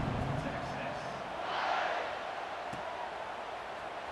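A stadium crowd in the NCAA 26 college football video game buzzes and roars in a steady wash, swelling briefly in the middle, with no other distinct sounds standing out.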